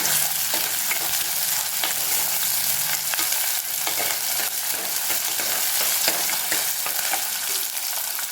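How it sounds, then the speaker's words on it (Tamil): Small onions frying in hot oil for a prawn curry make a loud, dense, constant sizzle up close, with stirring scrapes woven through it. "இப்போ வெங்காயம் சேர்த்துக்கலாம்"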